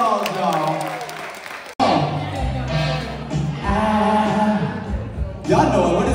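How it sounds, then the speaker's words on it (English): A church audience at a Mother's Day brunch applauds and cheers, loud crowd clapping and whoops building over music after a brief singing voice, continuing steadily and swelling near the end. "Give yourself a round of applause, y'all."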